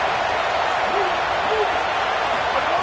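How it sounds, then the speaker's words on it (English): Steady crowd roar from a stadium in a football video game, a dense, continuous wash of cheering that stays even and loud throughout with no clear peaks. "Listen to the crowd energy here in the early going."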